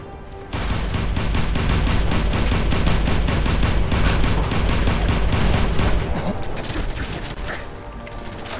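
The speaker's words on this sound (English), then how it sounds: "Automatic laser pistol." Automatic laser pistol fired in Fallout 4, a loud sustained burst of rapid shots running for most of several seconds, then tapering slightly toward the end.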